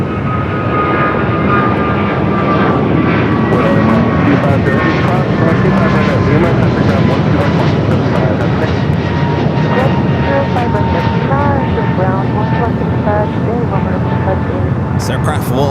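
A Royal Air Maroc airliner at Los Angeles LAX airport, its engines producing a steady, loud roar and whine that holds throughout, with voices talking over it.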